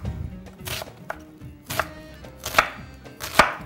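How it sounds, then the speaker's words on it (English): Knife chopping onions finely on a cutting board in a home kitchen: a steady run of crisp, close chops, with several sharper strikes standing out near the end, no voices. "that's it for our finely diced onions"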